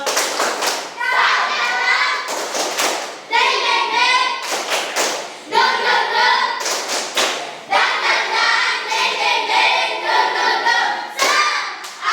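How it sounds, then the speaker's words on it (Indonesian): Schoolchildren in a classroom perform a rhythmic 'tepuk semangat' spirit clap, loud patterned bursts of clapping mixed with children's chanting voices, repeated in several rounds. "Tepuk semangat."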